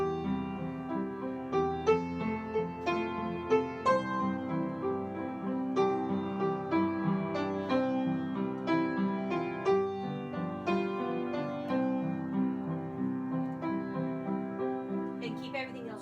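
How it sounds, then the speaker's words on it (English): A solo piano plays O Holy Night with rolled chords, sustained, resonant harmonies rippling upward under a soft melody line, played close and steady for the whole passage. "What are your tips on playing O Holy Night as a piano solo?"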